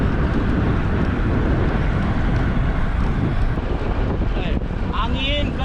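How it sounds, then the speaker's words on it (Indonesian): Strong wind buffets the microphone during a long road cycling tour from Makassar to Bira, a loud, constant roaring rush that stays close and unbroken, with a few faint chirps near the end. "Angin kencang. Angin kencang,"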